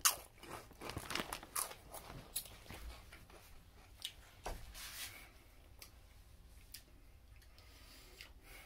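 Nacho cheese Doritos tortilla chips crunched and chewed up close, a run of crisp bites and crackly chewing that starts loud and fades to softer munching.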